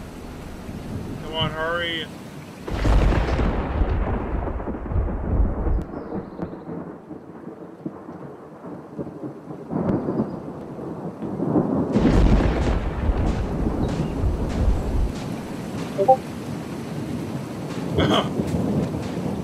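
Roblox thunderstorm with rain, low rumbling thunder rolling in repeated swells over a steady wash of rain and wind noise, with a person speaking briefly over it.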